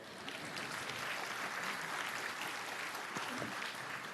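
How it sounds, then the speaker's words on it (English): Commencement crowd at Gettysburg College gives sustained, even applause that fills an outdoor ceremony space, dense and moderately distant. "you can clap if you want."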